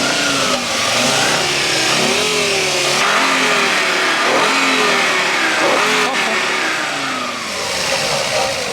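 A Fiat Bravo HGT five-cylinder with a stainless steel exhaust line revs up and down repeatedly, loud and close, its rising and falling engine note carrying steadily while people talk over it.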